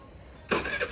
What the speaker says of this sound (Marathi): आता मॅडम आता गाडी चालू करते।